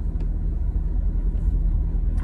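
A car engine idles or runs low through a quiet, mellow Corsica exhaust, giving a soft, steady low rumble close by, with no voices over it.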